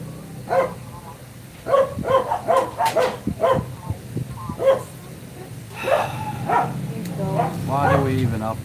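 Dogs bark repeatedly nearby in quick clusters of sharp woofs, with a pause and then more yelping and whining barks toward the end, heard over a low background hum.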